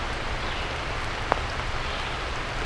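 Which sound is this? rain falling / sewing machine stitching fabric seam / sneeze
rain falling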